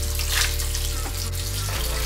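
Cold water runs steadily from a tap into a sink during a morning face-washing routine, a constant close rush with a low background hum.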